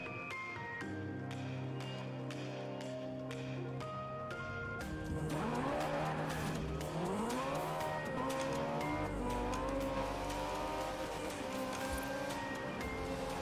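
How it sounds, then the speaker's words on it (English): A Ferrari engine in Forza Horizon 4 revs through gear changes, then tires squeal in a long skid under a steady engine drone, loud and close with no talking. "At least this Ferrari sounds relatively close."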